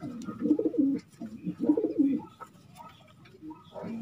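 A racing pigeon with its tail feathers missing coos close by, two soft throaty rolling calls in a row, followed by quieter faint murmurs.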